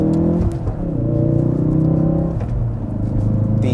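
A 2016 Ford Focus RS accelerates hard out of a turn, its engine droning loudly and steadily with a rising, rumbling tone heard from inside the car.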